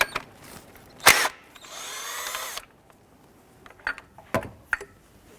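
A power tool spins out a 12mm bolt from a bracket on a 2012–2017 Toyota Camry during water pump replacement, with one short whirring burst among scattered clicks and clatter at moderate level.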